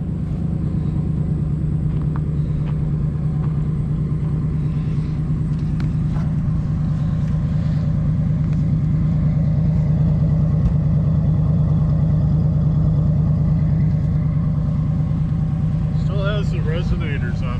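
A 1959 Cadillac engine idles steadily close by, a deep, even rumble that holds for the whole stretch while people talk over it.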